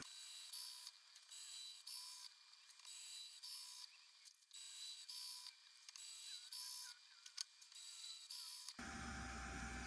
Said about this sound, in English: Looks like we have 6 M5 holes to tap here